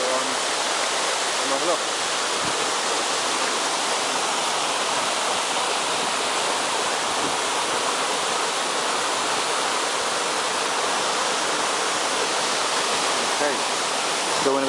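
A waterfall in Manu National Park in the Peruvian Amazon roars in a steady, dense, loud rush that holds unbroken throughout, with a voice speaking briefly beneath it.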